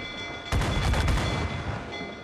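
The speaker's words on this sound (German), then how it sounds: "Auf Kampfstationen, an die Kanonen!" Ship cannons fire in the pirate video game Assassin's Creed IV Black Flag, a sudden heavy booming burst of several overlapping blasts that rolls into a rumbling roar and slowly fades beneath background music.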